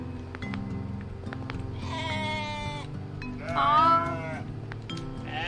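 A ram bleats twice in the video game OneShot, with a short wavering bleat followed by a louder, longer one, set over steady low game music.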